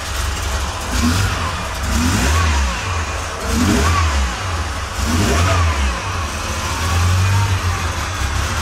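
A homemade Formula One style racing car engine, not yet warmed up, revs repeatedly in close, loud bursts over a rumbling idle, rising and falling in pitch several times.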